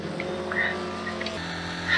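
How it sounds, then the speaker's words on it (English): Historic Formula Ford 2000 race cars at Brands Hatch, engines droning and shifting pitch as they pass at middling distance, heard steadily over about two seconds with a slight change in note midway. "Tom White is battling with Colin Wright and the car of Andrew Storer"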